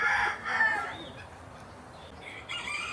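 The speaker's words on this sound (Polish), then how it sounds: "I kolejny Gallus domesticus z Polonii." A domestic rooster in Panama crows once, fairly close, its harsh call rising and then trailing off, followed by quieter farmyard noise.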